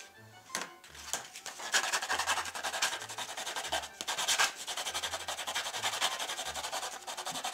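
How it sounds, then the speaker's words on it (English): Sandpaper rubbed briskly back and forth over the corner edge of a Rani's Tardis model panel, a steady, close, rasping scrub with short pauses, no voices. "A little bit of a sand to take that edge off the corner."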